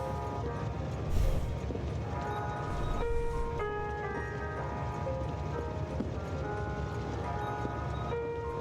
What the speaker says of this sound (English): Take a ride through the train system.